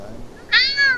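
A house cat in a Battlefield 3 game gives one short, bright meow, close and clear over a quiet background.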